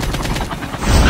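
Rapid bursts of gunfire in the mobile shooter game Call of Duty Mobile, a short, loud, dense volley of shots filling the moment on its own.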